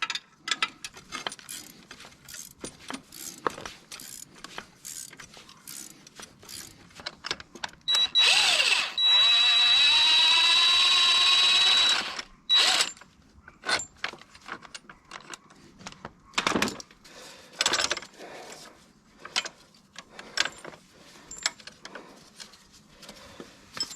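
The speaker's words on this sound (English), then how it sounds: "you can loosen it up slowly with the wrench" A wrench working loose a seized strut mount nut on a car, a long series of sharp metallic ratcheting clicks with a sustained whirring mechanical burst in the middle, close and alone.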